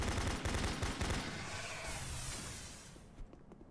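Shotgun blasts in the video game Doom 3 with a high-definition texture mod, a loud rapid series of heavy booming shots up front that trail off into a fading rumble and a few softer thuds.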